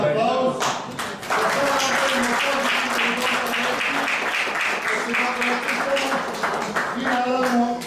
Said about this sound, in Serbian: Molim jedan aplauz.